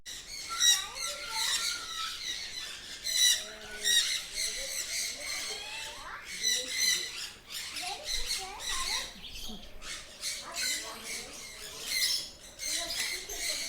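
Many birds squawk and screech continuously close by in an aviary in Kerala, a busy overlapping chorus of shrill calls with no pauses.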